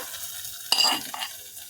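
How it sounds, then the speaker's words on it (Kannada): Spice tempering (oggarane) for an okra and coconut curry crackles briefly in hot oil, a sharp sizzling burst with a second smaller spit, then fading back to a quiet hiss. "ಅದಕ್ಕೆ ಇದೇ ಒಗ್ಗರಣೆ ಹಾಕ್ಕೊಳ್ಳೋಣ."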